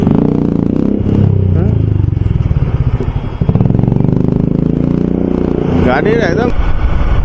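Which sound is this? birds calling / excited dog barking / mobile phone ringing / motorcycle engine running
motorcycle engine running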